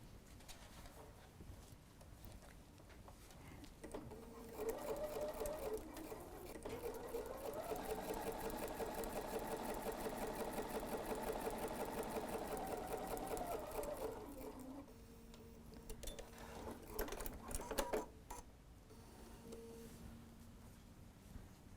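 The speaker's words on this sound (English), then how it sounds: "we're just going to sew that 1/4 inch seam" A sewing machine runs steadily for about ten seconds while stitching a quarter-inch seam on fabric strips for a bargello quilted tree skirt, starting and stopping with short bursts at each end and quiet handling between.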